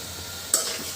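A short scrape of stirring garlic, onion and green chili frying in a pan, a soft sizzle with one sharper utensil scrape midway.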